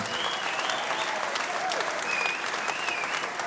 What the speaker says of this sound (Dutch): Geef hem een keihard applaus.